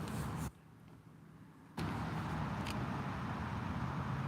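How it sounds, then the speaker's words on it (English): Loud cars passing by make a rushing traffic roar that drops away for about a second, then surges back and carries on steadily. "Them loud ass cars so fucking rude."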